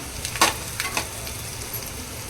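Garam masala sizzles as it drops into hot oil in a frying pan while cooking a meatless Shravan vegetable dish, giving a few sharp crackling bursts and then a soft, steady fry.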